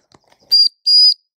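A dog training whistle gives two shrill, piercing blasts, a short one then a longer one, loud and close in an otherwise quiet room with a few faint handling clicks before.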